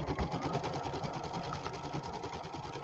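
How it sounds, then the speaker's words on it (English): An embroidery machine stitches out a small redwork design, its needle hammering in a fast, steady, even rhythm with a low motor hum underneath, close and continuous throughout. "this is the little design that we created, the little redwork design. And it sews out real nicely."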